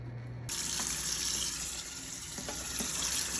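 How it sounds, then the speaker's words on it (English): Hot dye water from dyeing a wedding dress black is dumped into a sink, then a tap runs. After a brief quiet start the water bursts in abruptly and keeps up a steady close gush, with small splashes. "dump it into the sink and maybe start rinsing"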